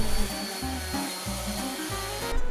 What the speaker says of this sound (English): Give it a light sanding,